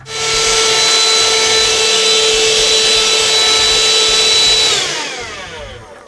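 A Dirt Devil vacuum cleaner running in a workshop during an RC short course truck build, a loud, steady, close roar that holds for several seconds and then whines down as it is switched off.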